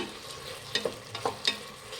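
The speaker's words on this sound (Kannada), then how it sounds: "ಎಣ್ಣೆಲಿ ಚೆನ್ನಾಗಿ ಫ್ರೈ ಮಾಡಬೇಕು ತರಕಾರಿನ." Vegetables frying in oil with turmeric for a vegetable pulao, a soft steady sizzle with several spoon scrapes and knocks against the pan.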